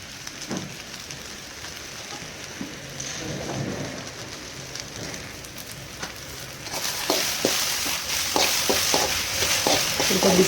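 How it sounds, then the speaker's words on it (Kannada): Okra (lady's finger) fries in hot oil in a pan, a steady hiss and crackle that grows denser and louder in the later part, with scattered stirring scrapes and no talk. "ಒಂದು 2-3 ಮಿನಿಟ್ಸ್ ಅದನ್ನು ಫ್ರೈ ಮಾಡಿ."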